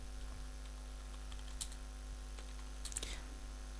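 Faint keystrokes on a computer keyboard while entering a QBASIC program, a few soft scattered clicks with a small burst near the end over a steady low electrical hum.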